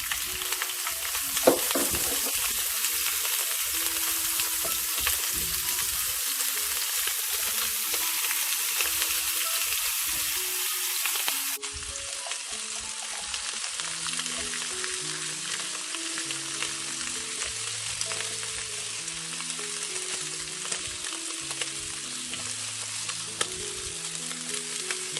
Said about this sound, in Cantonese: 煎一煎呢個排骨。